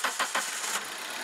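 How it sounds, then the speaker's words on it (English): An engine cranks with a few quick rhythmic pulses, then catches and settles into a steady, slightly noisy idle. "Start the engine."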